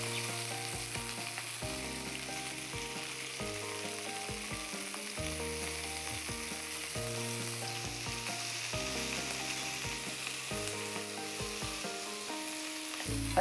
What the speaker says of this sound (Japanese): でキャベツが油とフライパンの鍋肌に触れてる状態を作ってあげます